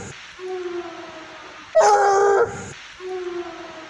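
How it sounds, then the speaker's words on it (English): A loud howl from an outdoor field recording, set against a dog's howl for comparison, rises abruptly into a strong, tonal wail for under a second between fainter, steady tonal calls before and after. "let's try this kind of comet-looking howl from today's recording"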